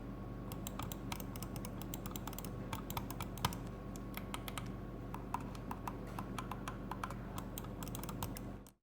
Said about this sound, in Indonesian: Semua tombol yang ada juga terasa kliki saat ditekan.